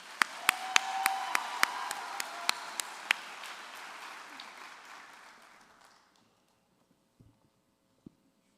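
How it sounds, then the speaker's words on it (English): An indoor convention audience at a Kansas FFA session claps for the 25th Anniversary State Officer Team, a dense round of applause with sharp individual claps that fades out after about six seconds, then near-silence with a couple of stray taps. "Let's give another big round of applause for the 25th Anniversary State Officer Team."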